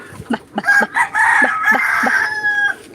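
A rooster crows loudly and close by, one long drawn-out cock-a-doodle-doo, preceded by a few short clucks.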